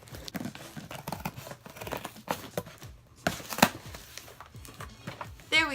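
Close, busy crinkling, tearing and snipping as a giveaway package is cut and torn open by hand, with irregular rustles and crunches throughout and no talking.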